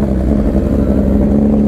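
A sport motorcycle engine, one of a superbike lineup such as a Kawasaki H2 Carbon or BMW S1000RR, runs loud and close at a gathering of riders, holding a steady, heavy drone with no clear throttle blips.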